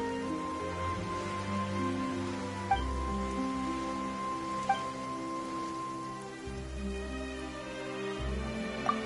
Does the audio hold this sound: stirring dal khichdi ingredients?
no